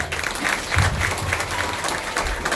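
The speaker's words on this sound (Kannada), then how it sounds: "ಒಂದು ಚಪ್ಪಾಳೆ" An audience at a district president's installation ceremony claps in dense, sustained applause, loud and close, with a few crowd murmurs underneath.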